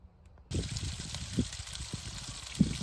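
Water from a garden hose gushes steadily through flushing muffs on a 1994 Four Winns Freedom inboard boat engine, starting abruptly after a quiet moment and running continuously with small splashing bumps.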